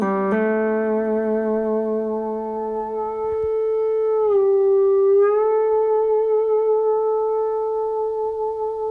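Long sustained electric guitar notes driven by an EBow's magnetic field, ringing on without decay and sliding smoothly to a new pitch midway, loud and close with no talking.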